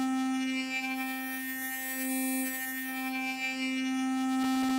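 A Serum synthesizer wavetable drones as a steady buzzing tone with stacked harmonics while its wavetable position sweeps, so the brighter upper overtones shift and swell over about five seconds, alone with no voices.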